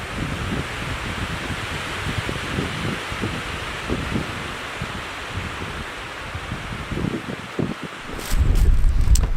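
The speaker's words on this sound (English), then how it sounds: "The wind is very strong." Strong wind gusting across a lake in a forest during a duck hunt, a dense, steady roar of buffeting microphone noise and rustling that swells louder near the end.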